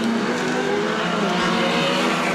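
Off-road short course race cars roar past together at a national finals event, engines revving hard and continuously loud and close, with a dense, rough mechanical drone throughout.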